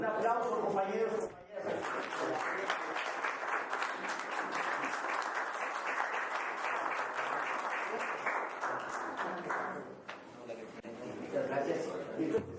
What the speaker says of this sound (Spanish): Un aplauso, compañeros.